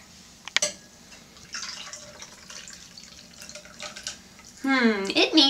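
Horchata cocktail being poured into a chilled margarita glass, with a sharp clink, then a soft liquid trickle, and a louder splashing pour near the end.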